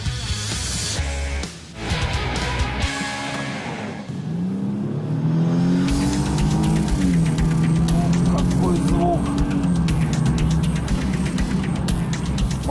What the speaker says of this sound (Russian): просто наслаждаться звуком двигателя